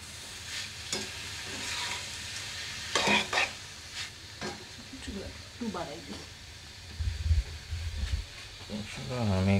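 Finely chopped spring onion leaves frying in a pan with a hissing sizzle and scraping stirs, while a voice talks intermittently over the cooking.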